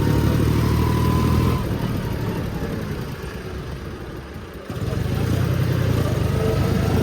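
John Deere 5050D tractor engine running steadily, with a loud, continuous low rumble that dips briefly in the middle and then comes back full.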